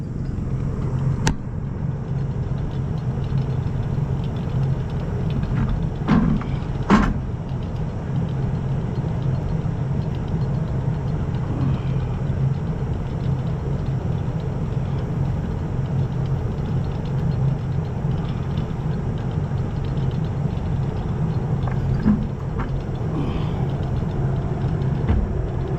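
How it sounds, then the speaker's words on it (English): A farm tractor engine idles steadily throughout, a continuous low rumble with a few brief clanks, close by and with no talk. "leave the tractor on"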